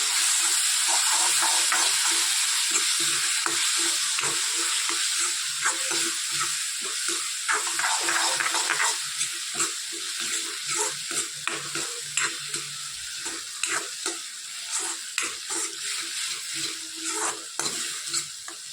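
Crushed onion and tomato hit hot spices in a pan for a dulli malai kofta gravy, a loud continuous sizzle broken by rhythmic scraping and stirring that gets more distinct and regular as the hiss settles.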